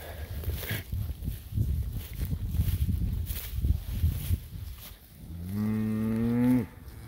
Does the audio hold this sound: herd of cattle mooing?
yes